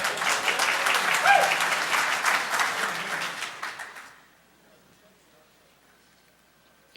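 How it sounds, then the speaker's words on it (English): A hacking conference audience bursts into lively applause of many hands with voices mixed in, then the clapping dies away over a few seconds into near silence. "Applause already."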